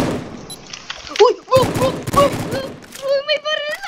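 Rapid bursts of game gunfire crackle over excited talking, with a few sharp shots spread across the moment.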